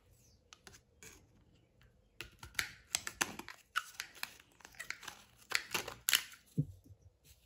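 Tin snips cut through bullnose corner bead for a wall corner, a run of sharp, close snips and crunches in irregular bursts after a quiet start, with no talking.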